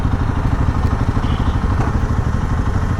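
Motorcycles, including a Honda Hness, idle and rumble nearby as they are parked outside a jungle cafe, a steady low throbbing engine clatter with no speech.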